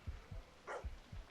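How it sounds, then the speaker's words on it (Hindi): A few quiet low thumps with a single brief dog bark in the middle in a horror video game set in a hospital, faint and somewhat distant. "कुत्ते भौंक रही है बहुत ज़्यादा।"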